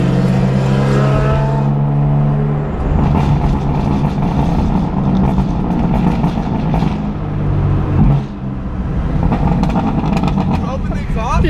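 Tuned BMW F82 M4 with a burble tune, heard as a loud, steady engine and exhaust drone around 2,500 RPM with crackling pops on top, while people talk over it nearby.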